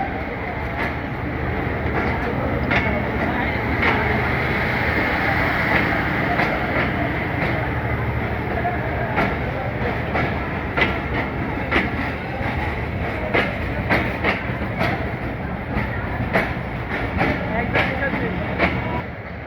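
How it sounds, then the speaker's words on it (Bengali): The Dhalarchar Express pulls out of Abdulpur junction toward Pabna at night with a loud, close, sustained rumble and a steady run of rhythmic wheel clacks on the rails that lasts the whole stretch. "এখন ছুটে চললো পাবনা বরাবর ঢালারচর এক্সপ্রেস"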